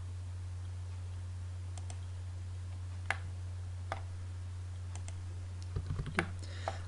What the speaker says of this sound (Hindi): F8 प्रेस करता हूँ, एल एंटर करता हूँ